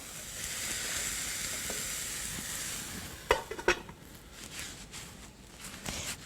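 Tomato fries in a pan with a steady close sizzle, and a few clattering stirs of a utensil against the pan come near the end; no one talks.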